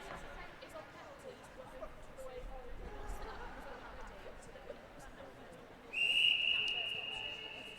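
A referee's whistle at a university netball match between Gloucestershire and Bristol gives one long, shrill blast near the end, rising over a steady background of crowd chatter.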